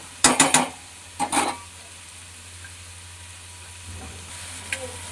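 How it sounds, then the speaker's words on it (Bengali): Vegetables with a little turmeric and salt are stirred in a pan with fish oil. Three short bursts of scraping and clatter stand out near the start and end over a faint, steady sizzling hiss. "এবার সবজিটা নাড়াচাড়া করে ভাজবো।"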